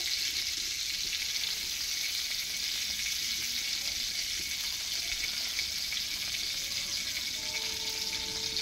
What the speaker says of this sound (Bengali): বন্ধুরা দেখুন, এই কড়াইয়ে তেল দিয়ে দিলাম খানিকটা।